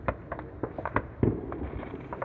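Fireworks crackle and pop at night, a scattered run of sharp bangs and snaps at mid distance, one heavier burst standing out among the smaller cracks.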